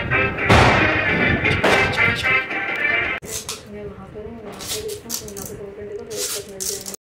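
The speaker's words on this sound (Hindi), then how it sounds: "ये रेडी है हमारा बिगेस्ट अनार।" A large anar fountain firework lit during Diwali sends out a loud hissing, crackling spray, followed by bursts of sharp crackles, while people talk close by.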